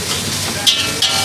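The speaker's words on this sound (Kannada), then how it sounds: "ಈಗ ರೈಸ್ ತಿರುಗ್ತಾ ಇದ್ದಾರೆ" Rice being stirred and fried in a hotel kitchen pan, with a steady close sizzle and two brief scraping stirs.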